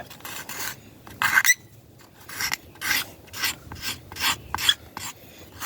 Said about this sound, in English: I'm going to swap to my little stick here to try and scrape off more